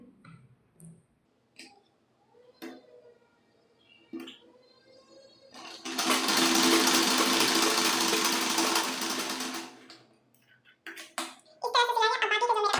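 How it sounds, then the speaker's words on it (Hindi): A sewing machine runs a diagonal seam joining two corners of cloth: a few seconds of loud, steady whirring stitching between quieter clicks and handling sounds. "इस कपड़ा का ये कोण यहाँ पे मिला देंगे, तिरछा सिलेंगे।"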